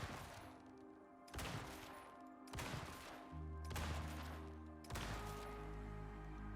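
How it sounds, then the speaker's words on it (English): An explosive rifle fires in the survival game Icarus, with four heavy booming blasts spaced about a second apart, each followed by a rumbling tail, loud and close. "We got explosive rifle here."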